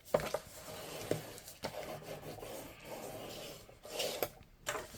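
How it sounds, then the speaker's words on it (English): Paper being burnished flat onto a craft album page, giving a soft, steady rubbing and scraping texture with a few sharper scuffs, close and fairly quiet, no voices. "once I have it all in line, I will go ahead and burnish it"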